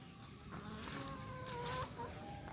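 Indian breed chickens, large farm birds, cluck and call softly in a quiet yard, several short calls scattered over a low background.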